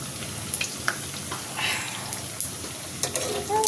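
A snack made from semolina, flour and egg fries in oil with a soft, continuous sizzle, broken by scattered pops and scrape-like ticks, moderately quiet.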